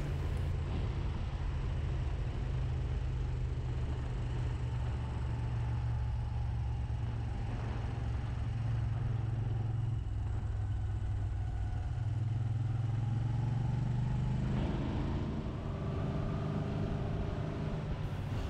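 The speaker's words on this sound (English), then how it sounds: "I'm following Norman at the moment, riding his Honda 750F." A 1982 Moto Guzzi 850 Le Mans Mark III and a Honda 750F ride together on the road, with a steady low engine drone and wind rumble that rises and falls in pitch throughout, no voices.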